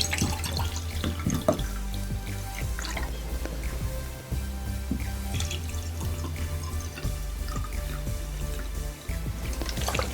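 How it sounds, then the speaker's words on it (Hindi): Tap water running and splashing as two containers are filled two-thirds full, steady and close for about ten seconds, with low hum and occasional clinks. "हम इन दोनों को 2/3 वाटर से भर लेंगे।"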